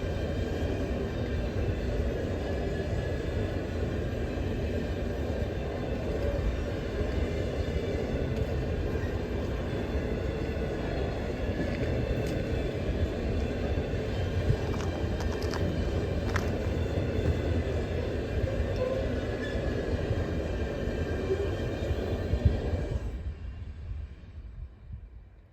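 A long iron ore freight train rumbles steadily past at close range, a continuous heavy roar of wheels on rails that fades away at the end.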